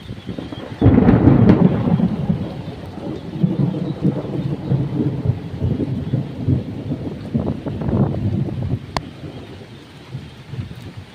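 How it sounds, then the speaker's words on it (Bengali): A thunderstorm with heavy rain outside a duck farm: a loud thunder rumble breaks in early and rolls on beneath a constant downpour, with further rumbles fading toward the end. "বাইরে দেখো গাইস পুরা বৃষ্টি,"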